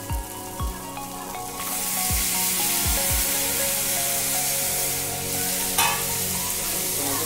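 Tomatoes dropped into onions frying in a pan set off a loud, steady close sizzle that rises and holds throughout, with a few brief spoon scrapes and no talk.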